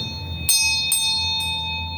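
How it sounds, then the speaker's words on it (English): A smudging bell rings three times at an even pace, each bright metallic strike sustaining a clear ringing tone that lingers and overlaps with the next, close and alone. "The bell is fun."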